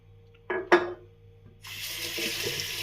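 Tap water runs from a faucet as fingers are rinsed beneath it, a steady close splashing hiss that starts partway through after a couple of short knocks and a faint hum.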